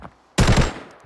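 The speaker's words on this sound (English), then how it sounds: "When shooting from a distance, you need to aim down your sights." A sharp, loud burst of automatic gunfire from the shooter game Arena Breakout, a quick rattle of several rounds that rings out for about half a second before fading.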